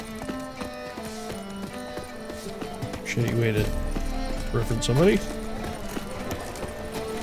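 Horse hooves clip-clop in the Witcher 3 video game, a steady trotting rhythm carrying on under voices talking over music and game sounds, with a louder burst midway.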